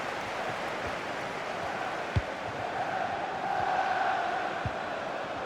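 A football stadium crowd reacts with a continuous distant roar that swells briefly into a louder surge of noise before settling, with a few faint thuds in the background.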